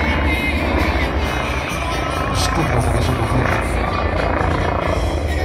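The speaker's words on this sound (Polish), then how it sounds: "Proszę zobaczyć, co wyprawia ten śmigłowiec" Bölkow Bo 105 helicopter performing aerobatics at an air show in Nowy Targ, a loud, steady rotor and turbine roar filling the scene, with a voice speaking over it and crowd noise in the background.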